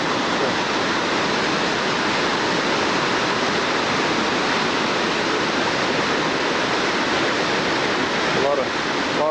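Roaring waterfalls along Going-to-the-Sun Road in Glacier National Park, June 1994, fill the air with a loud, steady, unbroken rush of falling water.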